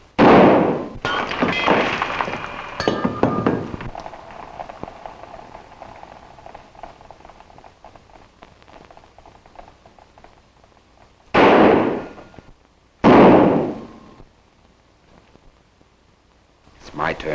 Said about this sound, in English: Let's get down to some fancy Oklahoma shooting.